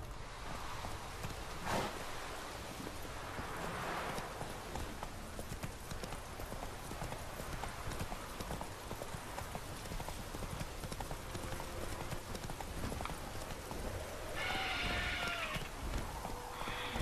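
Hooves of Roach, the horse in The Witcher 3, gallop in a steady rapid clip-clop rhythm across the whole stretch, with a brief soft whinny-like sound near the end and faint game ambience underneath.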